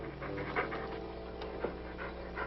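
Heavy panting breaths close to the ear in a comedy film scene set in Africa, a quiet steady rhythm of rough in-and-out breathing with no words spoken.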